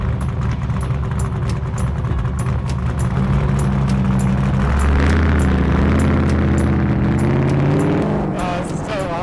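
An 850 horsepower off-road trophy truck engine on a desert course rumbles loudly and close, its deep drone rising in pitch as it accelerates, with rattling and bumping over the rough ground.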